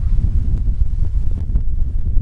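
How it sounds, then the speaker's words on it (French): Steady wind buffets the microphone with low rumbling gusts, loud and close, with no other sounds. "Il y a du vent."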